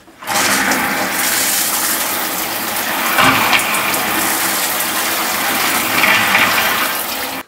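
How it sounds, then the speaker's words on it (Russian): Water rushes steadily through a household pressure reducer set to 3 bar, a loud, continuous hiss and gush that swells slightly a couple of times, with no voices. "Через наш редуктор посмотрим, какой шум сейчас."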